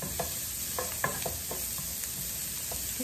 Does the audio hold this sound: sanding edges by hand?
no